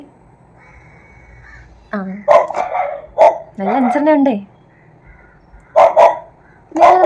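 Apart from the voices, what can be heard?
dog barking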